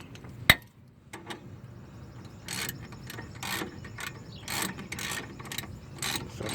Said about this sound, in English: Put your ratchet in tightening mode.